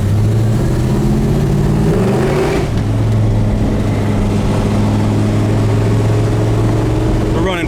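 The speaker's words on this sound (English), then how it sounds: "We're running first gear right now" A 1969 Chevelle SS engine drones loud and steady while driving in first gear, its low hum climbing and then dropping in pitch partway through.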